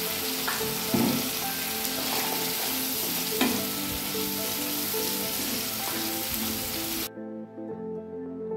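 Brinjal (eggplant) fries in hot oil with tomato, giving a loud, steady sizzle broken by occasional stirring scrapes, then the sizzle drops sharply near the end.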